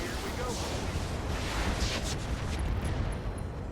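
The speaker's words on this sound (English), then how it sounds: "AC5 ammo explosion." Ammunition for an AC5 autocannon detonates in the RogueTech mech game, a broad rumbling blast with crackling debris that holds steady at close range across the whole moment, with a voice running underneath.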